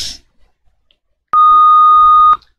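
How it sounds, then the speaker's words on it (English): After a brief click and near silence, a single loud, pure electronic beep sounds for about a second, then stops cleanly. "our computer's beep sound"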